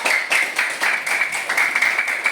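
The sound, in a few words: applause for a student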